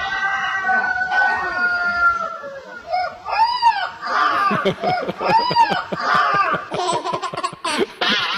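A puppy that grew up living with a rooster imitates its crowing, giving repeated high, wavering crow-like yelps in quick succession, with bursts of laughter-like sounds around them.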